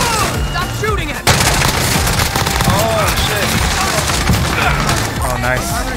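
Rapid gunfire in a first-person shooter video game, a dense, loud fusillade of shots continuing throughout, with a sharp burst near the start and players talking over it.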